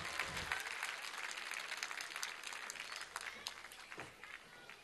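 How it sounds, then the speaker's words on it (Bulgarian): Audience applause after a Bulgarian song performance, a dense sustained wash of many hands clapping across the whole stretch with scattered sharper claps, fairly steady and moderately loud. "Да я посрещам с аплодисменти"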